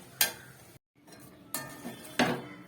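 A utensil stirs thick lentil dhoka batter in a pan as it dries, giving soft scraping strokes and a few sharper clinks against the metal, close and quiet.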